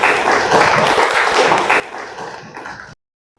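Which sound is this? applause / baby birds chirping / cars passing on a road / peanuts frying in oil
applause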